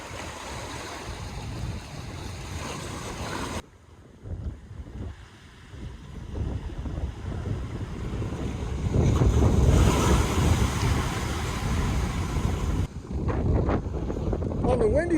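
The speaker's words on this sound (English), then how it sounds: "On the windy side here." Strong wind roars against the microphone while waves surge and break at a beach cove on St. John, Virgin Islands, loud and constant with gusts swelling midway; no voices.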